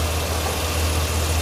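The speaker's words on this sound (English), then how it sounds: "Underneath the hood's a 6-liter V8 Vortec engine." A 2011 Chevy Silverado 2500 truck's 6-liter V8 Vortec engine idles nearby, a steady low rumble with no other sounds.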